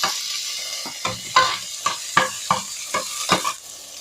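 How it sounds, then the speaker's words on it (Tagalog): Onions and vegetables for Pangasinan-style pakbet sizzle in a hot pan under a steady frying hiss, while a utensil scrapes and stirs in about ten quick, rhythmic strokes, close up with no talking. "Gisa-gisa lang natin to mga brad."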